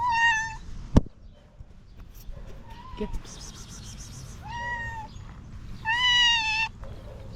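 An angry cat yowls and meows in several drawn-out, rising wails, close and loud, with a sharp slap-like thump near the start and a person speaking briefly in between.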